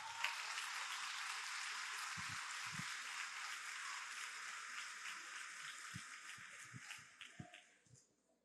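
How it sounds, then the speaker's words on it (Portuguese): Church congregation claps during a worship service, a dense, steady wash of applause that continues evenly before tapering off and fading out near the end. "Pode aplaudir o Espírito Santo."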